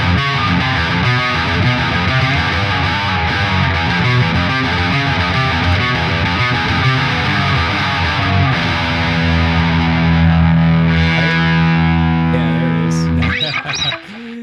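A cheap pawn-shop electric guitar plays on continuously with a tinny, buzzy, distorted tone through effects, loud and steady throughout, until a brief scrape near the end and no talk over it.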